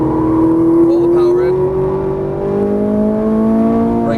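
A Ferrari 458 Italia engine pulls hard on a racetrack, its strained tone rising steadily as it accelerates, loud and close, with an instructor's voice talking over it.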